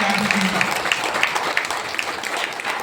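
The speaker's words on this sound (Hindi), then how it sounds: "एक बार जोरदार ताली बजा दीजिएगा।" An indoor audience claps loudly and steadily, making a dense, continuous patter of many hands that holds at an even level for a few seconds, with a brief voice at the start.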